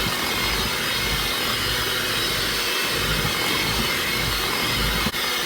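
Electric mixer beating eggs into cookie dough for potato chip cookies: a loud, steady motor whir that holds constant throughout, close by, with no voices.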